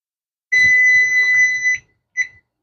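Kitchen timer alarm going off while baking a pumpkin pie, a loud piercing electronic beep holding for over a second, then a short second beep after a brief gap.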